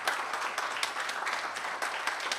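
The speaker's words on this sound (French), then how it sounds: "Jean-Marie Loncle, qui effectivement mérite vos applaudissements," Sustained applause from a conference audience, fairly quiet and distant-sounding, a steady patter of many hands with no voices over it.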